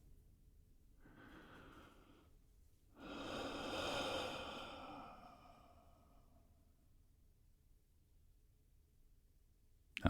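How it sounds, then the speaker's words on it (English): Deep breathing exercise done together by a group: a soft inhale, then a longer, fuller breath that rises and slowly fades, quiet and close with no talking. "Let's take a good inhale,"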